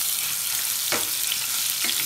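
Crushed, pounded garlic sizzles in hot oil for a Schezwan chutney, a steady broadband hiss with two brief stirring scrapes, close and alone with no talk.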